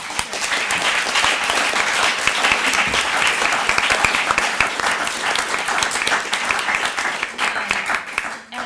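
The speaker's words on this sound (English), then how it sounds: "let's conclude by giving a round of applause to the speakers" Audience at a panel discussion applauding the speakers: a sustained burst of dense clapping from a roomful of people, steady and close, tapering off slightly toward the end.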